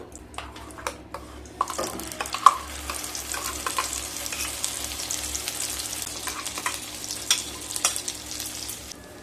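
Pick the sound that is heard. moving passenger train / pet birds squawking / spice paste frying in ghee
spice paste frying in ghee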